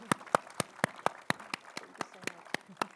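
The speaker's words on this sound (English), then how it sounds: "Please give them a warm round of applause." An audience at a panel discussion gives the panelists a thin, sparse applause of regular, distinct claps, about four per second, fairly close.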